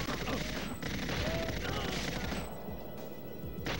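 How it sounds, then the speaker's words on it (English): Rapid machine gun fire rattles continuously through a GoldenEye 007 firefight, dense and loud across the whole stretch with brief dips in intensity. "let's bring out some machine guns"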